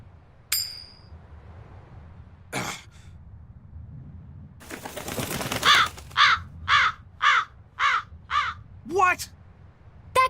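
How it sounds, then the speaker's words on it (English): In Tales of Berseria, a crow caws six or seven times in an even rhythm, loud and close, after a flutter and a few clinks. "That crow just flew off with the coin"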